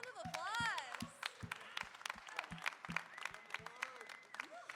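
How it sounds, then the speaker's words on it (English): An audience at a live stage event claps in scattered, uneven bursts while a voice cheers over it, the applause fairly thin and distant. "round of applause."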